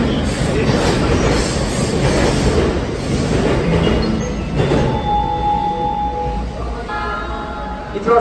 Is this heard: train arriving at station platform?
yes